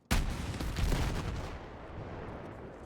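A single weapon shot in Battlefield 6 on the engineer class, one sharp loud blast followed by a rolling rumble that fades over a couple of seconds.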